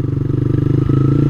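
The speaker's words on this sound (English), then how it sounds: "Little skid." A motorcycle's rear wheel locking up and skidding on dirt during off-road riding in a driving game, heard as a brief chattering scrape over the steady engine drone.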